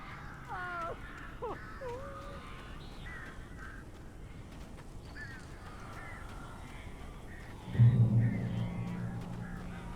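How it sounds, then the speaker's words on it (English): Crows caw in the video game Alan Wake, several harsh, wavering calls early on over a low ambient hum, followed later by a louder low rumble. "These birds are weird."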